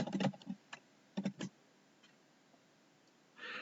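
A few quick keystrokes on a computer keyboard, typing a search into mapping software, heard as short close clicks in two small bursts, then quiet room tone and a soft hiss at the end.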